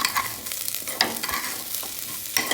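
Plain rice being stirred with butter in a pan for vegetable pulao: close, steady scraping and shuffling strokes with a soft sizzle underneath. No voices.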